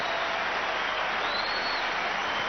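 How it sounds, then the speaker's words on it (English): Crowd applause in the Rod Laver Arena at the 2003 Australian Open tennis tournament, a steady, dense wash of clapping throughout, heard from a distance without any distinct voices. "some of the loudest applause of the day here on the Rod Laver Arena"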